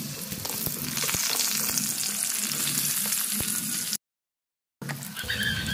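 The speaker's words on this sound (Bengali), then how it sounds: "এবার আমি পেঁপেগুলো ভেজে নেব।" Papaya pieces frying in hot oil for a Bengali shukto, a steady loud sizzle with bubbling crackle, broken by a brief gap of silence before the frying noise resumes.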